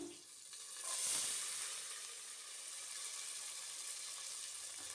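Field beans (avarekalu) fry with onion in oil, giving a soft, continuous sizzle with a faint stirring swell early on, quiet and alone.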